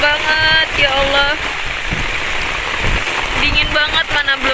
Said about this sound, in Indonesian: Suaranya nggak kedengeran, sorry ya, karena suara hujannya deras banget.